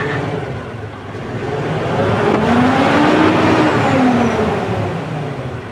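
A Fuso 6M70 truck diesel engine, just fitted with replacement injectors after running rough at low RPM, revs up and holds high before easing back, a loud close rising and falling engine drone.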